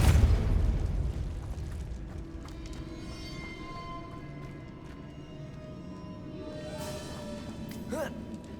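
Depulso spell blast in Hogwarts Legacy, a single deep boom at the start that fades into a low rumble, with faint magical shimmer and whooshes after.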